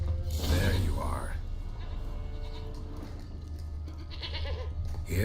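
A goat in the Witcher 3 video game bleats loudly at the start, then once more near the end, over a steady low game hum and ambient background sounds.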